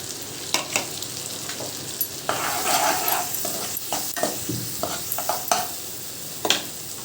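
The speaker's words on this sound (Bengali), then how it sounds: "যতক্ষণ ড্রাই হয়ে শুকনোর মতন কষাটা না হচ্ছে মশলাটা, ততক্ষণ এটাকে কষতে হবে" A paste of ginger, garlic, green chilli and turmeric fries over high heat for a boal fish curry, with a bright continuous sizzle and irregular spatula scrapes and knocks against the pan.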